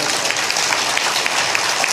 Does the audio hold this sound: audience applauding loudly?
yes